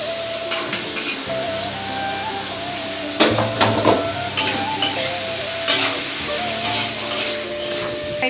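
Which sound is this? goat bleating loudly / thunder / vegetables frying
vegetables frying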